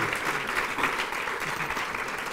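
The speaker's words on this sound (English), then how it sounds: "Let's give Richard and Chip a warm round of applause." A crowd claps steadily in a dense, even wash of applause that holds for the whole stretch.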